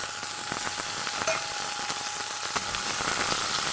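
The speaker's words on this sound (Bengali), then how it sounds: "এবার আমি কিন্তু মাংসের পিসটা দিয়ে দেবো পেঁয়াজটার মধ্যে" Pieces of meat frying in a pan with browned chopped onion, a steady close sizzle with faint crackles and occasional stirring clicks, no talking.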